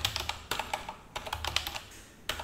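Fingers type on a computer keyboard in quick clustered bursts of close, crisp key clicks separated by short pauses, with no talking.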